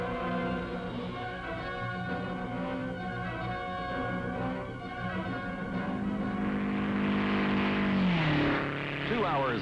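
A 1956 MG record car speeds past on the Bonneville Salt Flats, its engine drone steady and then sweeping downward in pitch as it goes by, loud and sustained.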